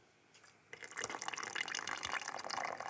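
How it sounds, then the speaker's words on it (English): Cooking water from boiled asparagus poured from a glass into a pot, a steady splashing trickle that starts after a brief quiet moment and carries on close by. "we're gonna use some of the water from the asparagus in the glass"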